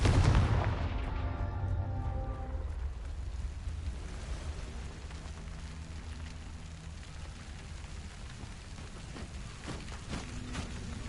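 A Confringo blasting spell goes off in a wizard video game, a loud low boom at the start with ringing tones that decay over a couple of seconds, leaving a steady rumbling wash with faint crackles.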